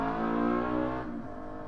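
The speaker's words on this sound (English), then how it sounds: "as I get interrupted by that motorcycle" A motorcycle engine roars loudly close by, a steady droning rev that fades slightly as it moves away.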